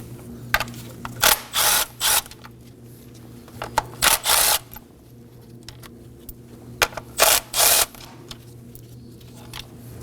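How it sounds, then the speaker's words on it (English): A 10mm socket ratchet works bolts loose on the 2.4L engine of a 2016-2020 Kia Sorento, with quick bursts of close, sharp clicking separated by short pauses and a low steady hum underneath. "Using a 10mm socket, we're gonna remove these three 10mm bolts."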